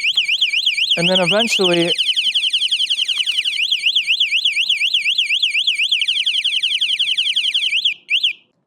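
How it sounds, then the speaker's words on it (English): Integrated anti-theft alarm on an electric bike, a loud, piercing warbling electronic siren sounding continuously for several seconds before cutting off, with a brief different tone at the start and a short chirp at the end; a voice speaks briefly early on. "super loud alarm,"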